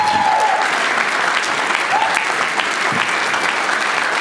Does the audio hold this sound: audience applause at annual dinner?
yes